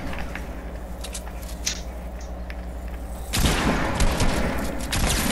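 Fortnite gunfire comes in as a sudden, loud burst of rapid shots and booms partway through, after a quieter stretch of game background and faint clicks.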